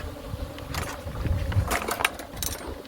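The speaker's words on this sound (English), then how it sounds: "Look at those bees streaming back into their hive" Honeybees stream back into a hive after an inspection, making a steady, dense buzz close by, with a few louder passes from individual bees near the listener.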